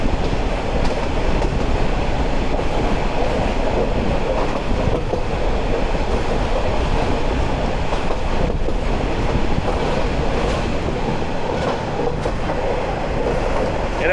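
The Chattogram University shuttle train rolls through a leafy stretch past the Amin Jute Mill, a loud, steady rumble of wheels with rhythmic clickety-clack from the carriages throughout.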